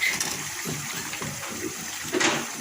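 Chopped bottle gourd, soaked in water, is tipped into a pot of cooking chana dal in a home kitchen. Close, continuous splashing and sloshing water noise builds to a louder splash near the end.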